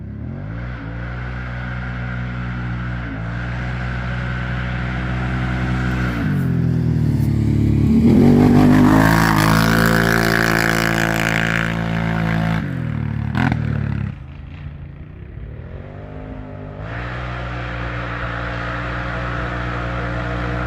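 A loud Can-Am Outlander XMR ATV engine with an Empire exhaust idles throatily, revs up strongly and winds back down, then settles into a rumbling idle again.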